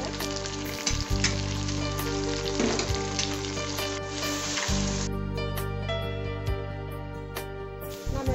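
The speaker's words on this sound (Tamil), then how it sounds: "போட்டுக்கிட்ட பிறகு நம்ம வச்சிருக்கிற சோயா நூட்டியும் போட்டு நல்லா கிண்டுவோம்." Onion, ginger-garlic paste and soya chunks frying hard in hot oil, a loud, steady close sizzle that never lets up, with occasional spatula strokes and scrapes through the pan.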